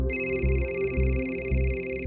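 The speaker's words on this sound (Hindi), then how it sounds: "अरे लखनऊ से चाचा जी का फोन है" A telephone rings in a home with a continuous electronic ringtone melody that pulses in a regular rhythm about twice a second.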